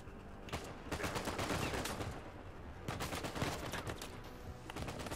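Gunfire in the video game Uncharted 4, a dense run of rapid shots and bursts close up, firing repeatedly across the whole stretch with brief lulls.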